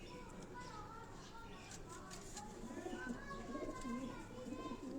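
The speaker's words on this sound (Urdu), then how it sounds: "یہ اگر آپ یہ دیکھیں یہ بھی سیالکوٹی بریڈ کے کبوتر ہیں" Sialkoti breed pigeons coo softly on a rooftop loft in Pindi, repeated low, throaty calls with some voices and other bird sounds in the background.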